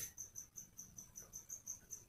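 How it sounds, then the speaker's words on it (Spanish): A cricket chirps indoors at night inside a house, its bright, steady pulses repeating evenly about every fifth of a second, faint and alone with no voices. "Acaba de sonar un grillo en mi casa."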